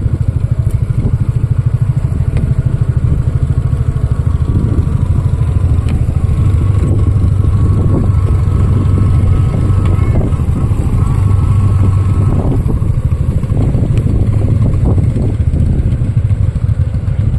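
Motorcycle riding on a mountain road during a hill trip in the Dooars region, with a steady, loud engine drone and rumble and light clatter, continuous throughout and with no talk.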